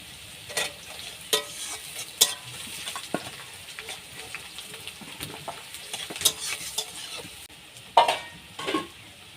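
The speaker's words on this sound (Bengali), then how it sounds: "তারপর আদাটা একটু ভালো করে ভাজা হয়ে গেলে তারপর আমি আলু দিই" Ginger frying in oil in a pan as it is stirred, a continuous close sizzle punctuated by irregular scraping strokes and clinks of the spoon against the pan, with no talking.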